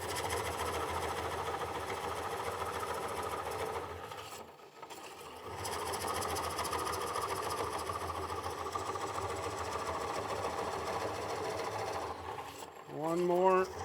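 A Oneway Easy Core knife cores a wooden bowl on a lathe, making a continuous humming, scraping drone that drops out briefly near the middle and returns. It ends with a short rising squeal.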